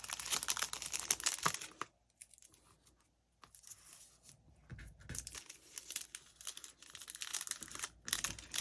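Cellophane crinkles and crackles as it is wrapped around Hershey Kisses for a craft rose. The sound is close and busy, drops to near quiet for a moment in the middle, then crinkles on again.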